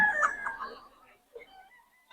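A rooster crows once, loud and close, among chickens offered for sale, its call trailing off before brief fainter clucking and a final squawk.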